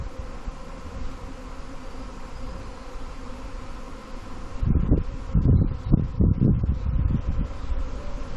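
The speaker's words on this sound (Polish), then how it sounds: "W powietrzu jest tysiące pszczół." Steady dense buzzing of a honeybee swarm from hives on garages in London, growing louder and more turbulent partway through as many bees swirl close by, with some breezy rustle.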